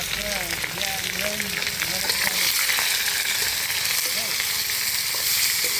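Pork frying in its own rendered fat gives a steady, dense sizzle with faint stirring scrapes, close and continuous throughout, with a few murmured voices low underneath.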